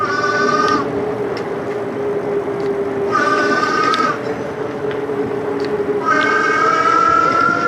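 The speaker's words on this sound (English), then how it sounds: "the first thing I didn't like is the motor noise. I never heard a motor quite like this." A motor whines with a rising and falling electric pitch in repeated surges over steady road rumble, fairly close and loud.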